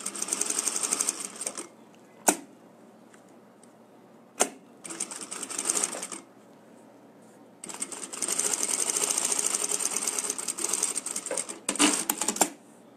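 A sewing machine stitches a pocket on a wallet, running in several bursts of rapid, close whirring with pauses and sharp clicks between them, no talking.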